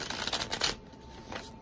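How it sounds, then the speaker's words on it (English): A deck of Animal Wise Tarot cards by Ted Andrews is shuffled close up, giving a dense, crisp riffling flutter that stops abruptly, followed by a lighter card rustle. "So I'm shuffling a supportive card here."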